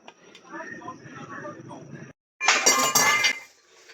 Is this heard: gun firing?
no